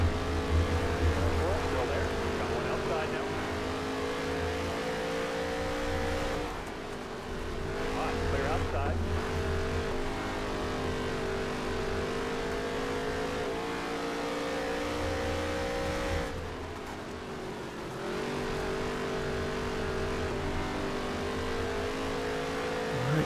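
Race cars on track in the video game NASCAR Heat 3 at Taggart, a sustained loud engine hum with steady tonal whine that dips and recovers through corners, with traffic cars around, running long without pause.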